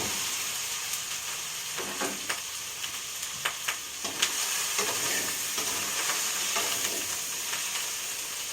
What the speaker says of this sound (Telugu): ఇప్పుడు చేప గుడ్డు వేసేసుకుంటున్నాను.